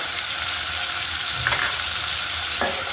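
White raisins sizzle gently in hot ghee, a steady close frying hiss with a couple of soft stirring scrapes partway through, no voices.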